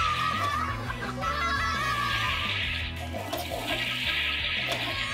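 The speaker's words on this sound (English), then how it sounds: "Fill the water, spin the roll, and see how many times you should flush." A Hasbro Toilet Trouble toy game plays its flushing sound effect, a steady rushing swirl mixed with a playful tune and laughter, continuous and fairly close throughout.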